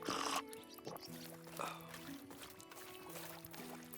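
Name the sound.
drinking lake water in the video game Medieval Dynasty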